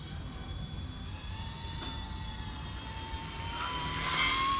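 A small Eachine E120 RC helicopter whines steadily, its high motor tone rising and growing louder near the end over a low background hum.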